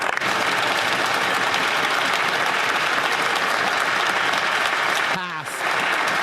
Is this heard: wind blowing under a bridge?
no